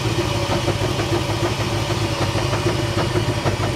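A Corvette C4 ZR-1 barn find engine idles steadily and loudly after sitting unused for a long time, a continuous low rumble with a faint rhythmic pulse throughout.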